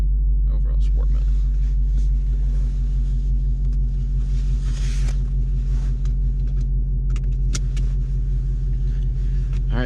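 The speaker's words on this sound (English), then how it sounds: "We're gonna drive in sport mode, sport, Magna ride, sport steering," A Ford Mustang GT350 cruising in sport mode, its engine a steady low rumble and hum heard from inside the cabin throughout, with no clear revving.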